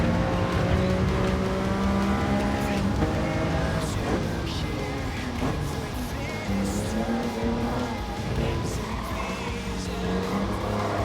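Racing in Gran Turismo on a PS5 Pro, a car engine drones and rises through gear changes while tires squeal and skid around corners, loud and continuous throughout.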